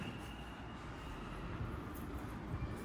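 A Vancouver SkyTrain metro train runs near an elevated station beside a bridge, a steady low rumble and rolling rail noise with a faint high whine, continuous and moderately loud with no talk.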